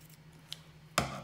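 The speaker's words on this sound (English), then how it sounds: "cut off that little tail part" A single crisp snip of scissors cutting paper near the end, after a soft tick and a faint low hum in a quiet room.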